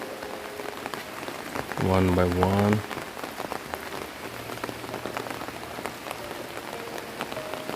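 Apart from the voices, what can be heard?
rain falling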